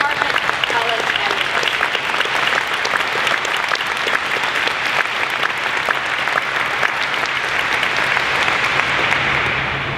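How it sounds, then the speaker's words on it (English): A large audience at a graduate awards ceremony applauds steadily for a faculty award recipient, a dense, even wash of clapping sustained for the whole stretch without pause. "let's give him a round of applause"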